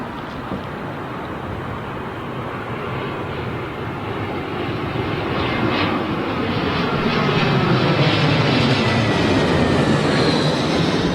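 Royal Jordanian Boeing 787 arriving on runway 27L at London Heathrow, a growing jet roar that swells louder over the clip and peaks near the end, with no speech.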